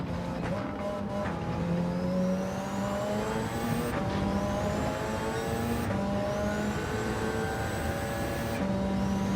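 Race cars on track in Gran Turismo 7, a close engine droning and shifting through gears with repeated upshifts and rising revs, steady and loud, other cars audible around it.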